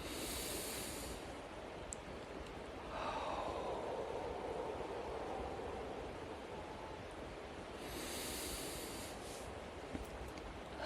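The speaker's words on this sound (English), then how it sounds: "Breathe in." Slow, deep breaths in and out during a guided breathing exercise, each long airy inhale and exhale rising and falling as a soft, steady rush, close and unhurried, with no voice present.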